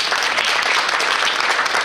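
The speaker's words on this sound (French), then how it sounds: "On applaudit Tiffaine" Steady, dense applause from an audience at a regional dance competition in Brittany, continuous and fairly loud for its whole length, with no voices rising above it.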